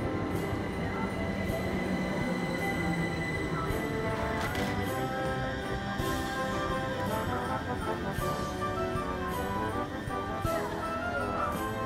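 A train rumbles and clatters steadily past a station platform at close range, wheels rattling on the rails with faint metallic squeals over a constant roar.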